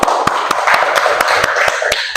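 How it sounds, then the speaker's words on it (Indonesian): Classroom of children clapping for a student, sharp evenly spaced claps in a steady rhythm, close and fairly loud, with faint voices underneath. "Kasih tepuk tangan."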